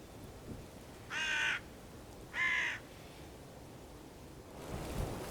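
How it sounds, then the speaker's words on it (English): Hooded crows give two loud, harsh caws about a second apart over quiet outdoor background noise, and a faint rumble follows near the end. "Then, as it started to kick up a real racket, it was joined by another bird that landed directly down into the decoys."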